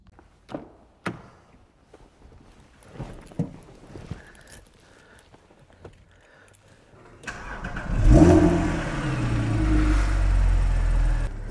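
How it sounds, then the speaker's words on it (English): A Porsche Cayman R with PDK gearbox fires up after a few quiet clicks and thumps, its engine catching with a loud burst and settling into a strong, rumbling idle close by. "You get in the Cayman R and you start it up, it's a visceral experience."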